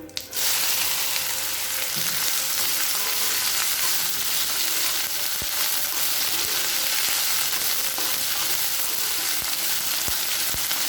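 Okra sautéing in oil with curry leaves, cumin and asafoetida, a loud, steady, close hiss of frying that begins abruptly and holds evenly, with occasional faint stirring knocks.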